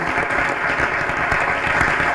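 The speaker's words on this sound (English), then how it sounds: "Can we give them an applause, please?" Live studio audience applauding at a talk show, steady dense clapping filling the whole stretch at close, even loudness.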